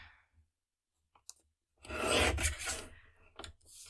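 Card paper being trimmed, with a few soft clicks followed by a single longer rasping cut, close and quiet against near silence, with no talk.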